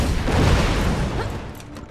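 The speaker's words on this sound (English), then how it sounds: "Explosion." A loud, rumbling explosion blast in the video game Borderlands 2, with a heavy low-end boom that gradually fades over about two seconds.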